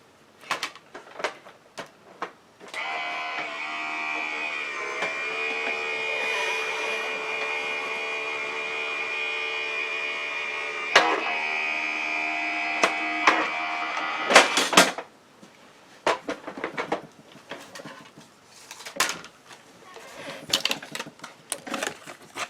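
An electronic die cutting machine runs a steady mechanical hum for about twelve seconds while cutting holiday cards, with sharp clicks and clatters around the start and end and handling noises afterward.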